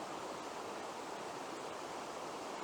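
A quiet, shallow river on Dartmoor running low after weeks of hot, dry weather, with light drizzle falling; a steady, soft broadband rush of flowing water continues evenly throughout, with no voices.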